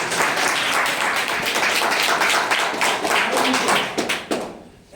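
A church congregation at a Sunday service claps loudly and steadily, a dense wash of applause that holds for several seconds before breaking into a few scattered final claps.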